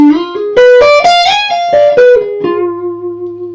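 Neoclassical electric guitar lick on diminished shapes: a quick run of distorted notes climbing and falling, ending on a long sustained note with vibrato, loud and solo with no talking.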